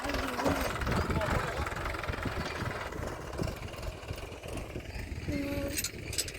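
A tractor engine idles with a steady, low rumbling chug throughout, close by and fairly loud, with faint voices in the background.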